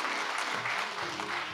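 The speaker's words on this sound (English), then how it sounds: "give God a hand clap of praise" A church congregation gives a short, dense round of applause in praise, many hands clapping together in a continuous wash at moderate volume, with no voices standing out.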